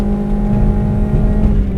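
A Toyota Yaris fitted with a Corolla engine runs hard at an autocross, its engine droning loud and steady at high revs with a deep rumble underneath, heard from close by without speech.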